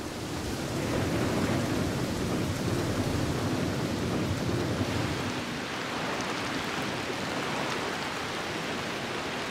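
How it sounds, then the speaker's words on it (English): Rainy-season heavy rain and gusting wind roar over the Kazinga Channel in a dense, steady wash of noise, with a low rumble swelling underneath. "And with the rain comes strong winds."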